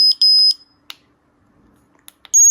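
Delupet dog training collar giving a higher-pitched electronic tone beep, a loud sustained tone at the start and another at the end, with faint clicks and a quiet gap between them, close by and without speech.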